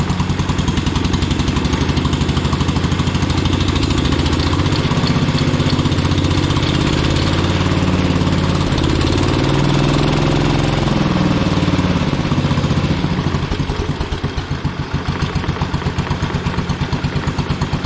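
A loud Minneapolis Moline 114 Hydro tractor's Kohler engine runs steadily up close, a rough chugging rumble that holds through the whole stretch and shifts slightly near the end.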